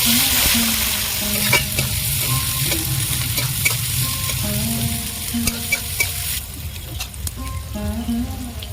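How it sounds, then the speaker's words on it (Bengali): Chopped onion hits hot oil with whole chilli, bay leaf, cumin and garam masala, sizzling loudly and steadily while a spoon stirs with repeated scraping strokes; the fry settles slightly quieter toward the end. "পেঁয়াজ কুচি দিয়ে দেবো"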